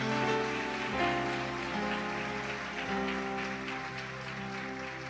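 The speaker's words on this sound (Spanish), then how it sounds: "Entonces denle un aplauso a Dios si es sobrenatural." Congregation applauding during a church service, a steady, dense wash of clapping that carries through with a faint tonal hum underneath.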